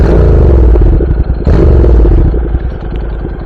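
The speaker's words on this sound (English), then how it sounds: "CTX700. I finally got some exhaust on here." A Honda CTX700 motorcycle with an aftermarket exhaust idles loudly and close by, with a deep, throaty, pulsing exhaust rumble that holds steady.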